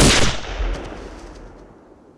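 A single loud gunshot cracks at close range in a war film about the 1944 Provence landings, followed by a rumbling echo that fades over about two seconds.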